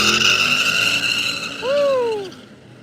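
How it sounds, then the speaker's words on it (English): An S10 and an El Camino make drag racing passes at Miles of Mayhem, loud engine roar with a rising whine and a brief tire squeal, heard from trackside over a busy crowd and ambient din. "We have an S10 and an El Camino up here for their passes at Miles of Mayhem Day 5."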